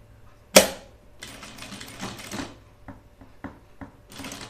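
Home sewing machine stitching a jacket for a reversible button-up shirt, opening with a sharp clack, then short bursts of mechanical needle chatter and scattered clicks, close and moderately loud, with no talking.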